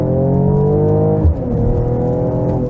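Mercedes-AMG GLE53 Coupe engine pulling hard under acceleration, a loud, steady drone that briefly dips and drops in pitch at a gear shift before climbing again, with no talking.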